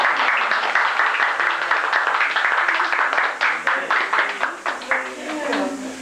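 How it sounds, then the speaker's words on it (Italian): Guests at an infant's baptism applaud for baby Stefano, a brisk burst of hand clapping that fills the room and then thins into scattered claps toward the end. "Facciamo un applauso per Stefano."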